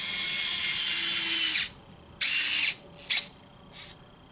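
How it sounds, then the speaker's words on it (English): A power drill drives screws back into a disassembled Linkimals owl toy, three bursts of close, loud whirring: a long run, a shorter one, then a quick blip, with faint trailing buzz between. "We're going to put the screws back in it and reassemble it."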